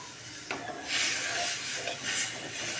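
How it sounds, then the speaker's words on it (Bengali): Water poured into a pan of sizzling fried spice masala for fish kalia: a broad, close steamy hiss surges up and holds steady with slight swells, following a brief sharp knock. "এখানে আমি পুরোপুরি জল দিয়ে দেবো।"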